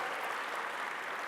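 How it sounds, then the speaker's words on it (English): Brief, steady applause rises from an audience at a conference plenary session, dense and even across the short moment. "Give them a round of applause."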